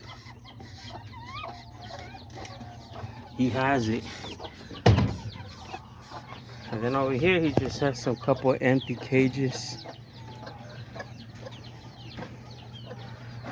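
Chickens cluck and a rooster calls in a backyard pen of kikiriki bantams, brief squawks and clucks rising at moments beneath steady nearby talk.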